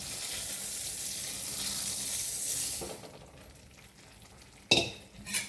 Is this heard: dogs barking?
no